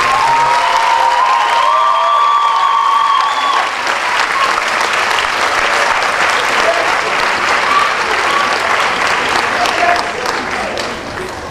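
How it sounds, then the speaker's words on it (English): Graduation ceremony crowd giving sustained applause to their families, a loud, dense roar of clapping with some cheering and voices mixed in, tapering slightly toward the end. "I'd like to ask the graduates to give a round of applause for your family."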